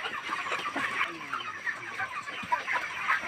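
Chickens on a poultry farm at night cluck steadily in a dense, continuous flock chorus, moderately loud and close, with no talking.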